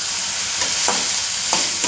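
Chopped onions, about a quarter kilo, drop into hot oil in a frying pan for an egg dish, giving a steady hiss with two short bursts of stirring or scraping, close and fairly loud, with no talking.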